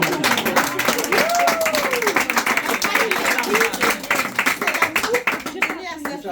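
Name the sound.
audience applause at a dowry ceremony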